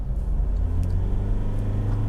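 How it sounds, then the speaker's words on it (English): A 2016 Ford Everest Titanium SUV with a 2.2-litre diesel engine accelerates at full throttle, giving a steady, loud low rumble from inside the cabin that holds throughout without talk. "So now let's just floor the Everest."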